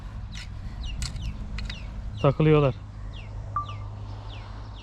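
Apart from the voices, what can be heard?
chicks cheeping on a farm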